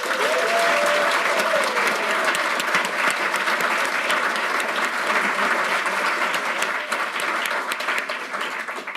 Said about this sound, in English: please give a massive round of applause to the wonderful people at Cogworks for organizing this